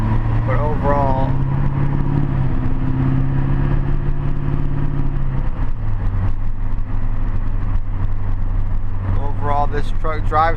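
A Duramax diesel pickup truck with some blow-by drives along, its steady low engine drone running throughout with a shift in pitch midway, and someone talking over it.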